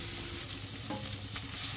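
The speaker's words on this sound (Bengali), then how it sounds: "চিংড়ি মাছের একটা সাইড ভাজা হয়ে গেছে, আর একটা সাইড ভাজার জন্য উল্টে দিচ্ছি" Prawns fry in a pan after being turned, giving a steady, soft sizzling hiss with faint crackles throughout and no voices.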